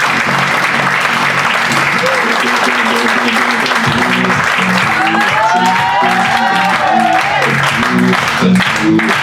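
A comedy club audience applauds comedian Edwige with dense, loud, sustained clapping. A voice speaks through the opening moments, and cheers and whoops rise partway through.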